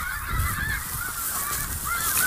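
Snow goose honking in a field among decoys, repeated nasal calls, clear and fairly near over steady wind-like outdoor noise.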